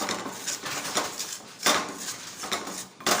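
Semolina roasting in a kadai is stirred with a spoon, producing repeated dry scraping sweeps and light metallic clinks in an uneven rhythm, close by, with no talking.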